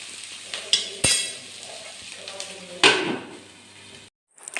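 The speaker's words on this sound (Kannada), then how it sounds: "ಈಗ ನಾನು ಒಗ್ಗರಣೆ ಹಾಕಿ ಈಗ ನೀರುಳ್ಳಿನೆಲ್ಲ ಫ್ರೈ ಮಾಡ್ತಾವಳೆ." Onions fry in tempering oil for a mackerel curry, giving a steady close sizzle with a few sharp clinks and scrapes of stirring before it cuts to near silence at the end.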